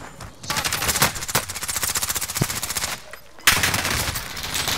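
Rapid automatic gunfire from Call of Duty: Modern Warfare rattles in sustained bursts, with a short pause near the end before another loud burst resumes.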